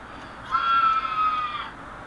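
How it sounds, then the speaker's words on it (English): A single shrill scream from the horror series American Horror Story sounds from a television in the background, rising and holding for about a second at moderate distance. "Sorry about any screaming in the background."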